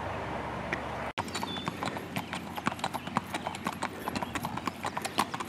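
Hooves of a horse clip-clop on a hard road in a steady, uneven rhythm, fairly close, heard during a bike ride past it, with a sharp bump near the start.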